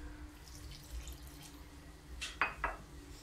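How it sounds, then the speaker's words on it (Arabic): Warm water poured into dough for small semolina harcha flatbreads, a few brief wet splashy bursts near the end over a quiet kitchen hum. "وغادي نحتاج الماء دافي باش غادي نجمع هاد العجينه"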